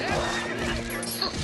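Link's horse whinnying in the video game Zelda: Twilight Princess, one short, loud, close neigh with faint clip-clop and game noise beneath.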